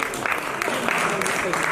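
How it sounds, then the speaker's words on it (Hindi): A crowd at a theater festival prize distribution applauds, dense clapping filling the short moment at close, even loudness. "जोरदार तालियों से आप सभी इनका भी सम्मान करें"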